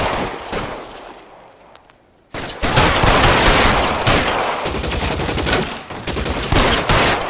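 Sustained automatic gunfire in L.A. Noire: a short burst, a lull that fades to near quiet, then loud, dense rapid shots that go on without a break to the end.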